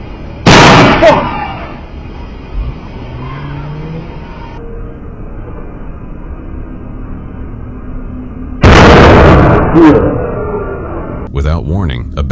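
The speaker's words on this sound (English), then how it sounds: "threw a lit firework toward Kirby's car" A lit firework thrown from a sedan at a car stopped at a red light bursts with a loud, sharp bang, and a second equally loud blast follows several seconds later, with steady road noise and a car engine in between.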